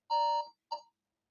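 An electronic quiz countdown timer gives two clear tonal beeps, a longer one followed by a short one, close and loud in an otherwise silent setting.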